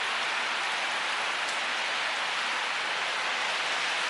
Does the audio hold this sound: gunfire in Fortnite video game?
no